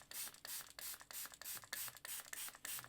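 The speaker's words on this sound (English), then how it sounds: "I'm going to have to use the spray bottle again just to see where that's going to go" A spray bottle is pumped rapidly over a watercolour painting, giving around a dozen quick, quiet hissing spritzes in a steady rhythm, close by, with no talking.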